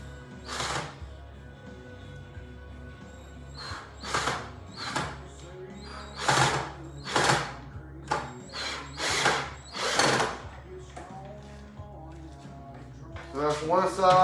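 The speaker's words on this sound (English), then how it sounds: "just slowly screw it in" Short bursts of a power driver whirring as screws go into a door hinge of a DIY travel case, repeated in spurts with pauses between and a longer whining run near the end.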